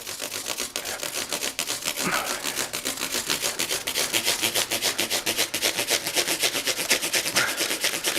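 Guitar frets being polished with 3000-grit abrasive make a fast, rhythmic rubbing hiss, close and fairly quiet, repeating in quick back-and-forth strokes without pause.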